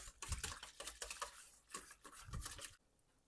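A spoon scrapes and clatters steadily around a bowl as yeast dough batter of milk and flour is stirred, a continuous rhythmic swishing up close that stops abruptly near the end.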